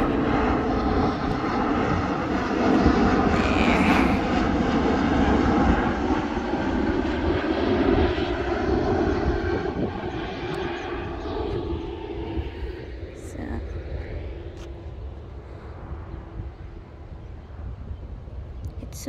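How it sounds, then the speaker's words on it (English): An airplane passes over a lagoon in a residential community, its loud engine roar sustained and slowly fading into the distance, with a few bits of speech at the start. "there's another airplane over there"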